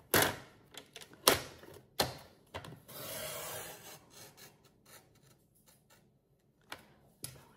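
Card paper being cut up to a fold line for a handmade flip flap card, a few sharp clicks and a short rasping cut, quiet and close with pauses between.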